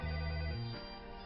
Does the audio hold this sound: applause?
no